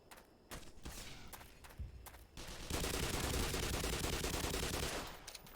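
Gunfire from a recoiling weapon in Half-Life: Black Mesa, with a few separate shots first and then a long, dense, loud burst of rapid automatic fire that tapers off near the end.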